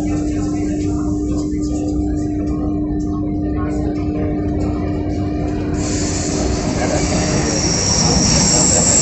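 Paris metro train rumbling steadily along the track at close range, with a sustained low drone, wheel noise and a brightening hiss as it speeds up near the end, voices faintly underneath.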